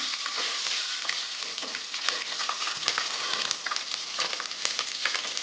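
Bay leaves and green chilies fry in hot oil in a pan for a vegetable pulao. A dense, steady sizzle crackles close by, with no talk.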